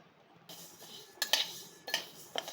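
Masoor dal lentils dry-roasting in a pan, stirred with a utensil that scrapes and clinks against the metal in a few sharp, close bursts over a faint background, with no voices.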